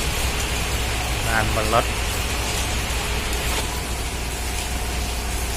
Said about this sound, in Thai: ฝนตกดูเหมือนหนักขึ้นเรื่อยๆครับตกหนักขึ้นเรื่อยๆจะไม่หยุดด้วย